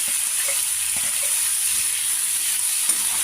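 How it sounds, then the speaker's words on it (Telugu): Tomato pieces sauté in a pan for a cowpea curry, producing a steady, hissing sizzle with a few faint taps, close and continuous without speech. "టమాటాలు వేసి కొద్దిగా మగ్గించుకోవాలి"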